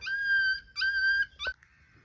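Three high, drawn-out whines in a row, the first two long and even, the third short and cut off, like a dog whimpering close by.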